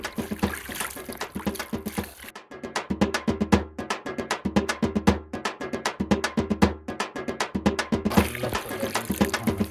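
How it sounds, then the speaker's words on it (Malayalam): Water poured into grow bags in a home vegetable garden, a steady splashing and trickling flow running the whole time with rhythmic surges, close by. "അപ്പോൾ നമ്മൾ ഗ്രോ ബാഗിൽ വെള്ളം ഒഴിച്ചു കഴിഞ്ഞു"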